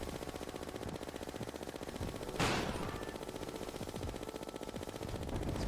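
Rapid-fire gun in Terraria's Calamity mod, a dense stream of quick repeated shots rattling steadily with one brighter burst midway, close and continuous with no talking.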